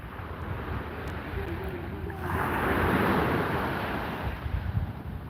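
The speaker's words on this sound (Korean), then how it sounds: "파도 소리 정겹죠?" Waves wash onto the sandy beach at Kkotji Beach at sunset, a broad rushing surf that swells to a peak midway and then recedes, with wind buffeting the microphone.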